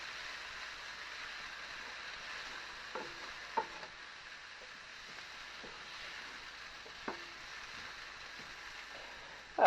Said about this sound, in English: we're going to add quite a bit of salt, and then we're going to fry this off for another 1 minute